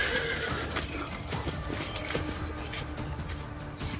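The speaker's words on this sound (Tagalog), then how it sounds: "May kabayo. May boses ng kabayo." Horse neighing outdoors at night, with scattered hoof clip-clops and a busy noisy background, moderately distant and fairly faint throughout.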